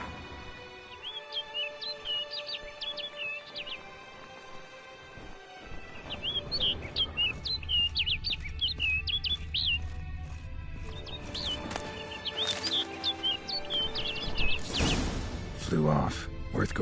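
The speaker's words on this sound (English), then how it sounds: "Looks like the bird's leading me somewhere." A bird in the video game The Witcher 3 gives rapid, high chirps in two clear bouts, one near the start and a longer one midway. The chirps sound over quiet game ambience and other scattered noises.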